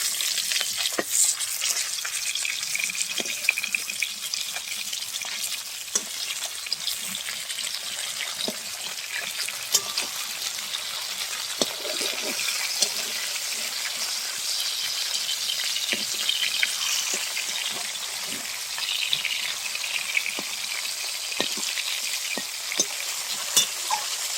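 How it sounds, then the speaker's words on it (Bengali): Steady crackling sizzle of fish frying in hot oil, with occasional sharper pops and faint scraping, continuous and close throughout. "মাছগুলো ভাজা হয়ে গেছে, এবার আমি তুলে নেব।"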